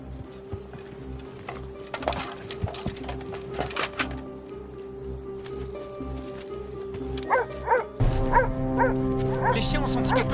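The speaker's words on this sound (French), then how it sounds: "Les chiens ont senti quelque chose." Dogs bark in short yapping bursts across a tense outdoor scene in an action film, mixed under a droning musical score that swells near the end.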